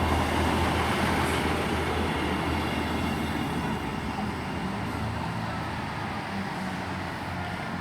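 Class 158 diesel unit departing platform 2 at Selby station on a Hull to York service, a continuous broad rumble of engine and wheels that slowly fades as it pulls away.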